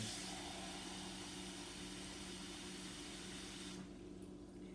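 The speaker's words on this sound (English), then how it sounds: "Let me go and get my 2 cups of water ready." Tap water runs steadily into a measuring cup in a home kitchen, a continuous close hiss and splash that cuts off shortly before the end.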